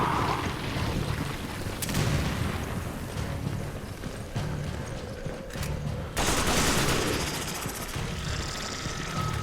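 A loud explosion bursts amid continuous gunfire in the video game Resident Evil 5, with sharp broadband blasts near 2 and 6 seconds over a steady rumble of battle noise.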